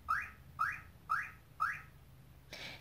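Four short chirping beeps from a Chevrolet car alarm evenly spaced, followed by a brief harsher buzz, fairly close over quiet background.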